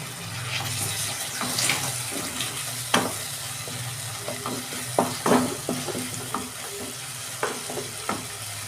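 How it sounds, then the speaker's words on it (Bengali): Garam masala is stirred into salted onions in a hot pan. A steady sizzle runs throughout, with sharp spoon knocks and scrapes against the pan coming through at irregular moments. "মশলাটা এবার আমি ভালো করে কষাবো দু মিনিট মতো"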